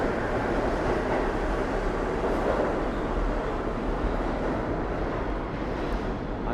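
Steady, loud rumble of a New York City subway train in motion heard from on board a not too crowded car, a continuous broadband roar with rail noise throughout and no talking.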